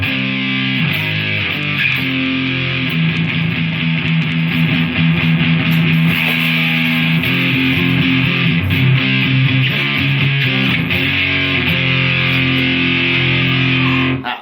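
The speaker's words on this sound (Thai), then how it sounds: "จริงๆแล้วมันเป็นเสียงที่เป็น distortion" Heavily distorted electric guitar rings out continuously, thick and saturated, with chords shifting underneath and no voices present.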